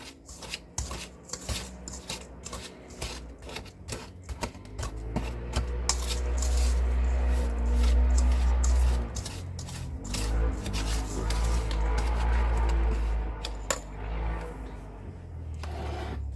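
Brown sugar is mixed into beaten dehydrated eggs for a smoked pecan cobbler: gritty rubbing and rasping strokes start unevenly, then give way to a steady, dense churning with a low rumble.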